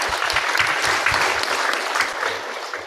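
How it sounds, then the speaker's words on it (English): Audience applause for an ambassador at a youth climate diplomacy dialogue, a dense, steady wash of many hands clapping that stays loud and even throughout, with no talk over it. "Can we give an applause for the ambassador?"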